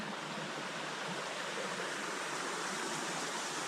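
Water running over rocks at a creek crossing on a green foothills trail, a steady broadband rush that stays even and close throughout, with no voices.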